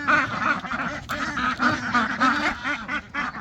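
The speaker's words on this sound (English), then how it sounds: "So we have the 5 jumbo Pekin ducks" Jumbo Pekin ducks quack loudly and continuously at close range in a farmyard at morning feeding time, a dense overlapping chorus with no voices over it.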